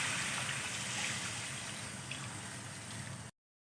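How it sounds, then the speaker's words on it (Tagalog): Water pours steadily into a cooking pot of chicken curry, a continuous close rushing splash that runs for about three seconds and then stops abruptly. "Lagyan natin ng tubig."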